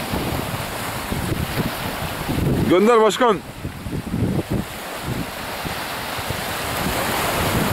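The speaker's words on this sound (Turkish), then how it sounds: "Hava rüzgarlı gördüğünüz gibi Kadıköy boyunda." Strong wind buffeting the microphone over waves breaking on the Kadıköy shoreline at Çanakkale, a continuous rushing roar with a brief shouted voice in the middle.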